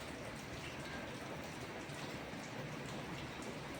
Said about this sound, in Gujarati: એક બાજુ તડકો છે ને એક બાજુ વરસાદ આવે છે